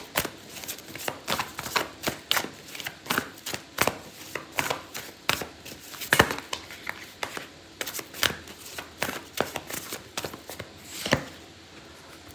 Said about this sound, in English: I'm gonna pull out an oracle card for you